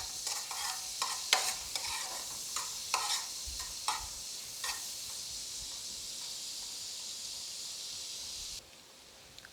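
Finely chopped garlic sautéing in melted butter, a quiet steady hiss with scattered scraping stirs and clicks early on, then an even sizzle that drops off near the end.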